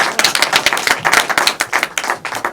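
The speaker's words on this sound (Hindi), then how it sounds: "तो एक बार ताली बजाइए" An audience at a poetry tribute to Ramdhari Singh Dinkar claps, producing loud, quick, slightly uneven hand claps that form a lively, rhythmic patter.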